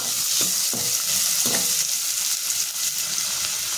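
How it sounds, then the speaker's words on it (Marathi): Finely chopped spring onion sautéing in a pan for a winter fish soup, with a loud, continuous sizzle and several quick stirring strokes scraping near the start. "कांदा पातीचा जो कांदा असतो तो बारीक चिरून घेतलेला आहे आणि हे आपल्याला त्याच्यामध्ये छान परतून घ्यायचं"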